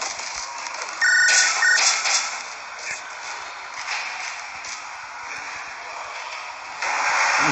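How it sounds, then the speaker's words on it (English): A phone ringtone sounds in short electronic bursts near the start, then fades beneath a noisy, cluttered game-like background with other sounds. "Hey, somebody get the phone."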